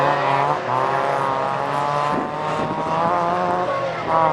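A Renault Mégane Coupé race car screams past on a circuit with a loud, sustained engine note and shifting pitch, another car's engine blending in around it.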